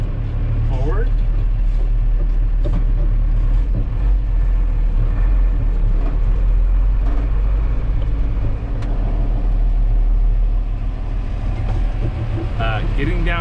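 A Unimog truck with air-over-hydraulic controls rolling forward over bumpy ground, a loud steady low engine drone with rattles and jolts, and a voice speaking over it.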